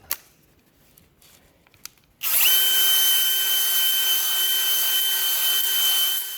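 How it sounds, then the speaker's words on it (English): A drill spins a ball hone inside a Cummins diesel engine cylinder, starting after a few quiet clicks and then holding a loud, steady whining buzz with a strong sustained tone, close up and without talk. "We're gonna take our old cherry ball hone here and just polish her up some."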